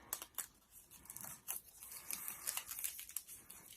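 Scissors snip through paper in short, irregular cuts while shaping teardrop pieces for a paper pine cone craft, close and fairly quiet with small crisp bursts.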